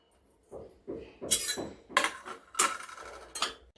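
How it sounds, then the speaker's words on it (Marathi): Repeated scraping and metallic clattering of a utensil stirring grated coconut roasting inside a metal pressure cooker, close up, in irregular bursts with no talking. "हे जे खोबरं आहे हे आपल्याला तांबूस रंगावरती भाजून घ्यायचं आहे"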